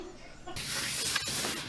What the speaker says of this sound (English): I'm using some very professional tools, like this heat gun right here by Conair.